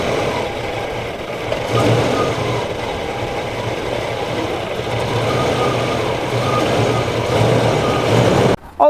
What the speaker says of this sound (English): Okay, it's starting to do what it normally does, which sputters and dies.